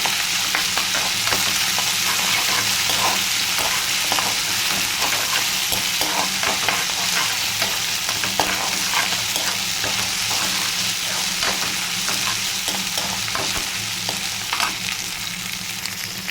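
Ginger garlic paste fries in a pan for chicken liver curry, a loud, continuous sizzle with steady scraping of a spoon stirring through it, close and uninterrupted with no talking.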